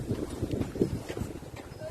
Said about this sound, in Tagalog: But then it's windy and very cold.